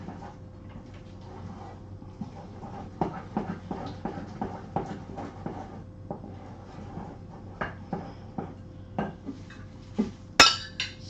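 A utensil scrapes and clinks against a bowl as carrot cake batter is stirred, a run of sharp irregular knocks over a low kitchen hum, close and moderately loud, with one brighter clank near the end.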